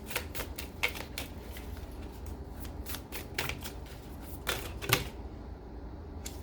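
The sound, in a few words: drawing a tarot card from the deck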